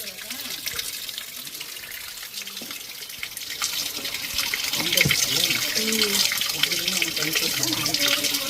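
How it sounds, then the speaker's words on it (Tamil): A small stream of water trickles and splashes down a rocky waterfall path at Vellagavi near Kodaikanal, a steady close wash of flowing water throughout, with faint voices and scattered background sounds underneath. "ஆனால் இப்போ தண்ணி இல்லை, தண்ணி சின்னதாக வந்துக்கிட்டு இருக்கு பாருங்கள்."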